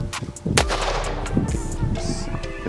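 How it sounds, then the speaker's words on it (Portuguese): .380 hollow-point round fired into a refrigerator: one sharp, loud shot cracks out near the start with a ringing, reverberant tail, surrounded by smaller thumps and clatter. "eu vou dar um disparo com cada calibre, pra gente ver como é que entra, como é que sai"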